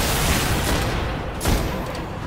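Gunfire aimed at the player during a Destiny: Rise of Iron mission: a dense, continuous barrage with a heavier boom near the middle, loud and close, with no talking.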